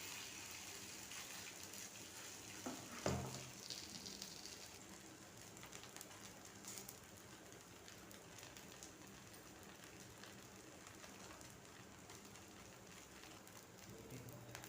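Wheat flour dosa batter, spread by hand, fries in hot oil with a faint, even rain-like hiss throughout and a soft dull knock early on.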